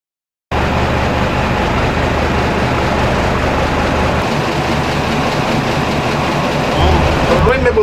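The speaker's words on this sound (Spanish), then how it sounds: "esta locomotora es una locomotora Jung alemana" A German-built Jung locomotive runs with a loud, continuous engine rumble and steady clatter, close by and unbroken for several seconds.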